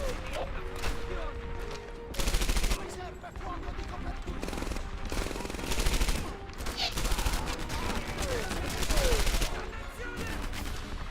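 Bursts of gunfire and rattling shots from the classic war FPS Airborne, dense and continuous with periodic louder volleys around a busy battle mix.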